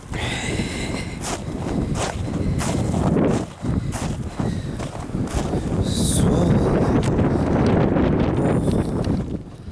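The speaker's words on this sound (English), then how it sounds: "That's a cold wind." Cold wind during a Halifax snow storm roars steadily against the microphone, loud and gusting throughout, with a few brief rustles and a faint whistle.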